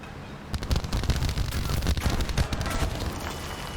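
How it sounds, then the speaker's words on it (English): Aircraft strafe and bomb in War Thunder, a rapid rattle of gunfire layered over heavy rumbling blasts, loud and continuous after a brief quiet start. "end up getting strafed and bombed on the way there"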